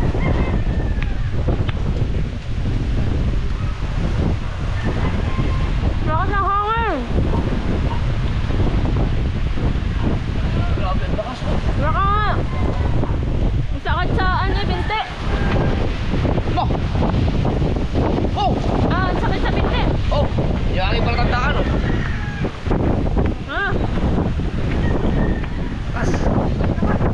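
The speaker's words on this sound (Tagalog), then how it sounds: "Lakas ng hangin na." Strong wind at sea buffets the microphone nonstop with a roaring rush, waves and a small fishing boat's engine beneath, while voices speak over it.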